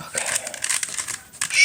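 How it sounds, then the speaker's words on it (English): A new puzzle cube is twisted rapidly to scramble it, giving a dense run of close plastic clicks and crinkly rattles that stop briefly near the end, with possible soft voice sounds mixed in. "Trying to scramble all the pieces everywhere."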